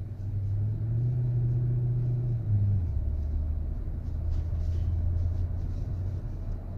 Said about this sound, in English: So it's RPM is jumping up and down when shifting.